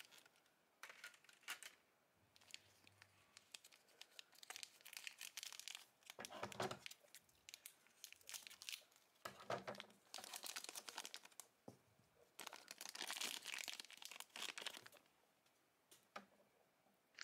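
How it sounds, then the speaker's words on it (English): Plastic wrapping from Sylvanian Families Baking Baby Party blind bag figures crinkles and rustles in quiet, close bursts, starting and stopping irregularly with short tearing sounds. "Free these from the plastic."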